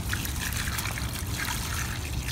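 Water pours from a bucket onto an impervious asphalt driveway, a steady splashing trickle that runs continuously at close range with no speech.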